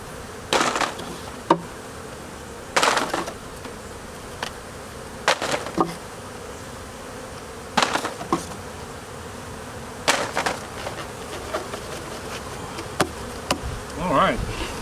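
Honeybees buzz steadily as they are shaken off a hive frame during a hive relocation, a dense close drone punctuated by several sharp knocks and thumps from the shaking.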